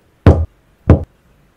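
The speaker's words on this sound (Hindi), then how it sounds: "फिर से नॉक आता है" Two loud, heavy knocks on a door, spaced about half a second apart, each sharp and booming with a short decay, close and isolated against silence, used as a horror story effect.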